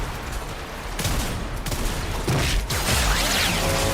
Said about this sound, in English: So I very rarely get to use this big gun.